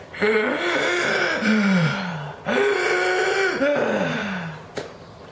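A voice imitates heavy, strained gasping breaths, two long labored wheezing inhales and exhales, close and loud.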